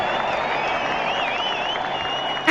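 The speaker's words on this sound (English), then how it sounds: "We need an applause for that." Applause from an audience on a radio show, celebrating a film that has won fifteen awards: steady, fairly soft clapping that carries on under a faint high tone.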